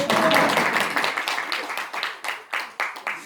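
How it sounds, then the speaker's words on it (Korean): Applause at a church lecture on biblical financial management, a brief burst of clapping that thins out into a handful of scattered, separate claps with quiet gaps between them. "우리 신 목사님께도 박수 한번"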